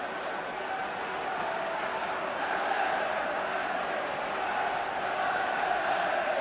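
Football stadium crowd at a 1977 League Cup Final replay between Aston Villa and Everton, a dense, sustained roar of many distant voices cheering and chanting without a break.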